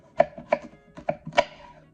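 Knife cutting through apples on a board for a classic apple pie, four crisp chopping strikes spaced roughly a third of a second apart, close and clear with no talk.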